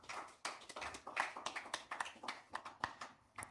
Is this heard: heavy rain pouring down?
no